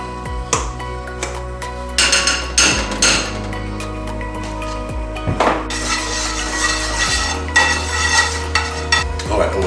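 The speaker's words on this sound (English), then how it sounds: "now I'll get this thing fried up first. I always chuck in a little bit of butter," Butter frying in a pan for breakfast, a steady sizzle under repeated loud clanks and scrapes of a utensil against the pan.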